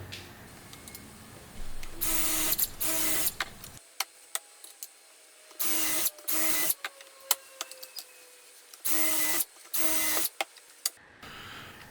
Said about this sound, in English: and then on to drilling holes for the handles.